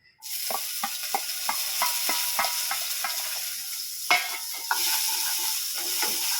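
Ginger and tomato sizzle in a hot pan for fish curry, making a loud, steady frying hiss close by, broken by repeated scraping strokes of a spatula and a louder burst midway.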